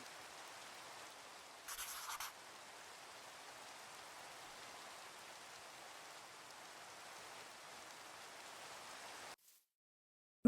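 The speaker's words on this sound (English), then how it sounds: "And it's raining." Steady rain hisses across a Minecraft landscape near a swamp, a dense even wash of falling drops with a brief louder burst early on, cutting off abruptly near the end.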